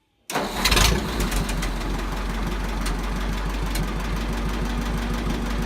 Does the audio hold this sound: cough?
no